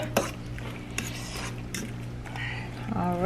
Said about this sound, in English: Make sure we stir it up really, really good, because we want our, you know, our meat to be all tasty